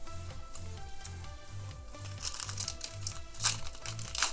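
Crisp crinkling and rustling of a foil trading card booster pack from a Chaos Rising booster box as it is opened, continuous close handling over a steady low rhythmic background beat.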